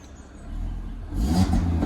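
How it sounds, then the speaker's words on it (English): A 520 bhp Audi RS3 with a decat exhaust, parked, gives a short, muffled rev that swells into a louder engine roar after a low rumble. "Even if I rev it, you might hear a bit of the decat noise"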